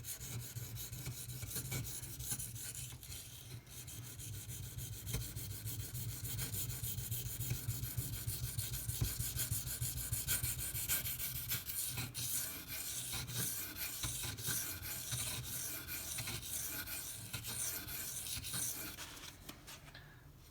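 Spyderco Delica knife with a ZDP-189 steel blade sharpened on a stone, a faint, steady rhythmic rubbing and scraping of repeated strokes continuing throughout, close and quiet.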